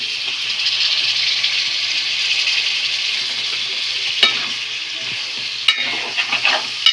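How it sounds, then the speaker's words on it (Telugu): Chicken fries in a pan with chili and gongura masala, a loud continuous hissing sizzle that holds steady, with a few sharp scrapes and clatters of stirring toward the end. "నెక్స్ట్ మొత్తం చికెన్కి ఇలా మసాలాలన్నీ పట్టేలాగా మంచిగా కలుపుకుంటున్నాము."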